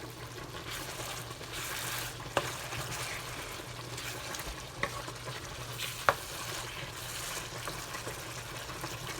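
Bolognese sauce being stirred in a pot, a steady low simmering sizzle with soft scraping and a few sharp clicks of the spoon against the pot, continuous and close, with no talking.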